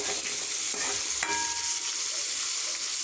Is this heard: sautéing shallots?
yes